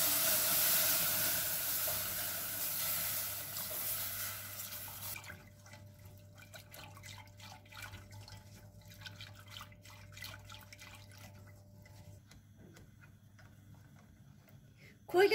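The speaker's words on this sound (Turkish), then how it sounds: "2-3 dakika kadar unu kavurduktan sonra üzerine 4 su bardağı süt koyuyorum. Bir çırpıcıyla karıştırıyorum hemen." Milk is poured into toasted flour with a broad rushing hiss, then whisked with light, quick ticks of the whisk against the pan over a low steady hum.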